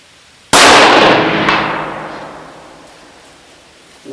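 A single sharp rifle shot from a Tikka T3x TAC A1 in 6.5 Creedmoor aimed at a beer bottle, loud and sudden, followed by a long rolling echo that fades across the open range.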